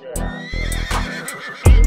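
A horse whinnies in a few loud, close bursts that are separated by short gaps, ending in a heavy low thump.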